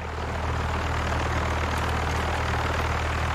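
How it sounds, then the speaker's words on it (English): Military helicopters flying in Call of Duty: Modern Warfare (2019), a loud steady rotor and engine drone with a constant low thrum, close and unbroken throughout. "How does no one hear these choppers?"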